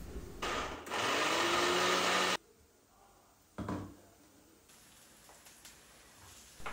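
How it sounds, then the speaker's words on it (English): A kitchen blender purees four to five tomatoes into a paste, whirring loudly for about two seconds before stopping, followed by quieter clunks and handling sounds. "I will also make a paste of 4 to 5 tomatoes too."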